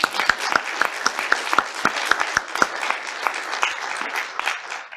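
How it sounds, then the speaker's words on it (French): Audience at a conference session applauding the morning's speakers, a steady run of sharp individual claps with a few louder hands standing out, moderately close and unbroken by talk. "on peut les applaudir"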